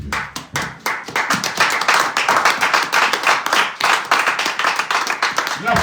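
A church congregation applauds during a service, a dense stream of hand claps sustained for several seconds, steady and close, with faint voices mixed underneath.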